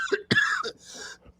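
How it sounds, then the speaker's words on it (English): A short, deliberately faked coughing fit: a few harsh, breathy coughs in quick succession, close and fairly loud, lasting about a second and a half. "fake a coughing fit"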